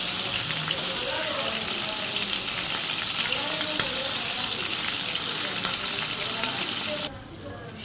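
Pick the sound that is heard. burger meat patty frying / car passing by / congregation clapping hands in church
burger meat patty frying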